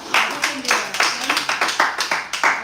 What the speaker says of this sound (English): Please like applaud her.